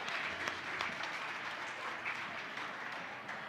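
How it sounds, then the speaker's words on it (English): Audience applause at a live community crowdfunding event, a steady dense wash of many hands clapping that holds evenly through the whole stretch with no voices over it. "can we have another round of applause for 4 great presenters tonight?"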